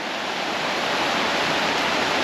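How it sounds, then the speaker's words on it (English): Creek water flowing beside a mountain walking trail, an even, unbroken rush that stays fairly loud and near throughout, with no voices over it. "you follow the creek, and it kind of serenades you."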